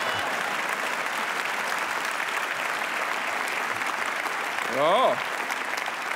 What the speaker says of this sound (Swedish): vad skönt det är att applådera